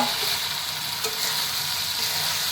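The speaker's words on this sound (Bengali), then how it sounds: "এখন বেশি করে নাড়তে হচ্ছে, কেন নাহলে কড়াতে নিচে লেগে যাবে" Pumpkin flower curry thickens in a kadai under frequent stirring, giving a dense, even sizzle with faint scraping strokes throughout.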